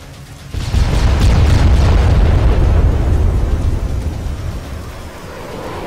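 Loud, heavy explosions from A-164 Wipeout missile strikes in the military video game Arma 3, a sudden booming blast followed by a long rumbling roar that slowly fades, with no talking.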